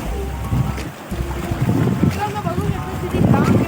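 Strong wind gusts at Chivla beach in Malvan during shore fishing, buffeting the microphone with a steady low roar while someone talks over it.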